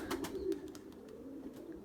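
Purebred Erzurum white pigeons give a soft, low, rolling coo, faint and steady, against quiet background noise.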